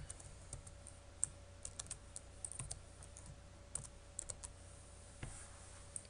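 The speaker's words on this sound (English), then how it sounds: "So I'm going to type in print." Typing on a computer keyboard while entering Python commands, heard as irregular soft key clicks scattered through the clip over a low steady hum, faint and close, with no talk.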